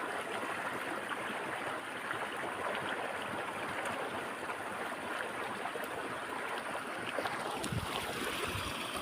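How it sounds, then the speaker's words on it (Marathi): Rainwater rushes steadily out through a pipe on a rain-flooded farm, a continuous broadband gush of flowing water that stays loud and unbroken throughout, with no voices. "हे पाणी बाहेर निघून जाईल"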